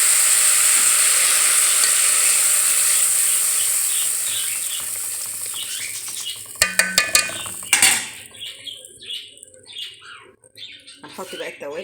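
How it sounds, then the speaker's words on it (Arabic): Onions with black pepper, cumin, chili and salt sizzle in a pan, a loud steady hiss that fades, then sharp scraping stirring strokes clatter against the pan, close up. "هنقلب كده ونسيبها تتسبك"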